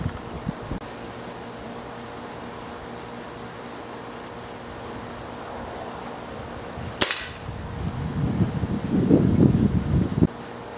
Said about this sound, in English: I'm going to shoot some different pellets at it.